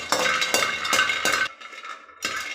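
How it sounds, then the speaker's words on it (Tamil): Nutmeg dry roasting in a pan, a few close bursts of rattling and scraping as it is stirred, broken by a short quieter gap before one more stir. "இப்போ நம்ம என்ன வறுக்க போகிறோன்னா ஜாதிக்காய் தாங்க."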